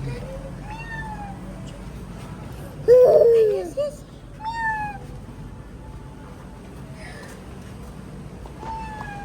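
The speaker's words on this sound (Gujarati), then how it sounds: "આ બિલ્લી મ્યાઉ" A cat meows several times, short nearby mews with one louder, longer cry, while a person talks softly in between.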